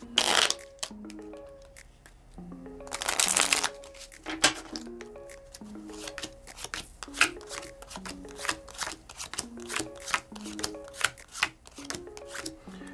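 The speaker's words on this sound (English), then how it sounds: "Once you shuffle the red play cards, you'll deal 5 play cards to each creature." Red play cards from the Ferret Flush card game riffle-shuffle in quick repeated bursts, each a crisp flutter of snapping cards, close up and clear against a quiet background.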